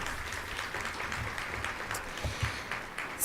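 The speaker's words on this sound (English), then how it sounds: "let's give them all one more round of applause." An audience at a university faculty awards event claps for the winners again, a moderate, fairly even patter of many hands with a few sharper claps near the end.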